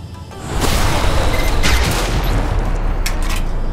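Gunfire from a pistol in the game Alpha Protocol, a dense, loud volley of shots with booming low end that swells after a brief lead-in and keeps going with no voices over it.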